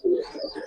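Giribaz and coloured pigeons give a single short, soft, throaty coo, close by and alone.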